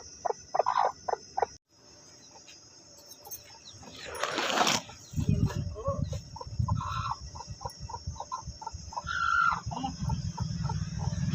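Several chickens cluck and cackle nearby in short, uneven bursts, with one louder squawk partway through amid farmyard background noise.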